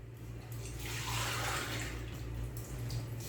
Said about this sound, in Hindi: और अब इसके बाद मैं इसमें थोड़ा सा पानी शामिल करूंगी